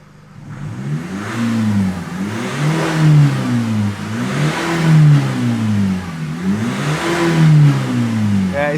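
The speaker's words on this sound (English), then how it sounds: "let's accelerate the car" A Nissan X-Trail with remapped engine, EGR and DPF deleted and a misfire and power loss near 3000 RPM revs repeatedly while stationary, the engine note rising and falling in rhythmic surges, close and loud.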